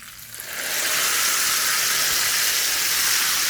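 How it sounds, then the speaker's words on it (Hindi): Hot tadka poured over thick chana dal for Sargodha jhaal chakian daal bursts into a loud, steady sizzle that swells within a second and keeps hissing on its own. "गरम गरम मजेदार सा तड़का लगाएंगे।"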